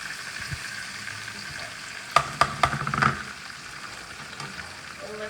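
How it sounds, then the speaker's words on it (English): Spinach sizzles and fries steadily in a pan while a utensil stirs it, a few sharp scraping clinks of metal against the pan standing out over the constant hiss. "Give this a stir."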